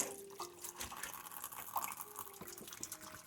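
Water from a kitchen tap runs over greens with red stems being rinsed, a light splashing and dripping trickle, close and fairly quiet.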